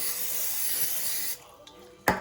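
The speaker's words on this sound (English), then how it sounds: "Let's spray this side." Olive oil sprayed over chicken pieces being readied for an air fryer, a steady close hiss for over a second before stopping, followed by a sharp clatter.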